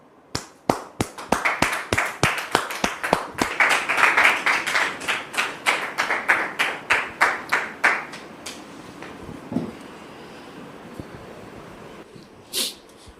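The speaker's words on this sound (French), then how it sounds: "Merci de les recevoir sous vos applaudissements." A studio audience claps in a sparse, rhythmic pattern, individual hand claps rising and then trailing off after several seconds, followed by near quiet with a few isolated sounds.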